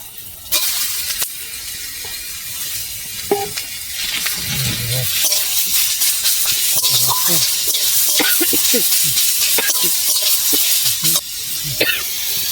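Mango pieces go into a pan of fried onion and chilli for a Bengali mango and egg sour dish. A loud, continuous sizzle runs throughout, broken by repeated scraping and stirring clicks.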